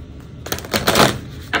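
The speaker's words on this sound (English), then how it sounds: "I don't have to shuffle super brilliantly because I'm going to be randomizing the deck" A deck of tarot cards is shuffled by hand, a quick run of close, dry riffling flicks that builds to a brief flurry after a quiet start.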